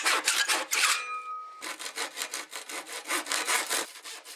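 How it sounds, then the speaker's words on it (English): Thick timber being cut by hand with a floorboard saw, close and loud: a steady run of rasping push-pull strokes with a brief pause partway through before the rhythmic sawing resumes. "using the floorboard saw to roughly cut around the shape"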